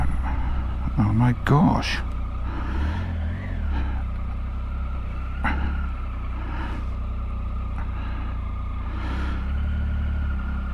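A big vehicle pulling away in second gear near St. Govans, Pembrokeshire, with a steady low engine drone and some clatter under nearby talk and an exclamation, moderately loud throughout.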